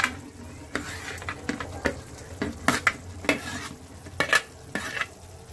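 Paneer hits hot oil in a pan and is stirred, giving a bed of soft sizzling broken by a string of scraping, clacking spoon strokes at an uneven rhythm.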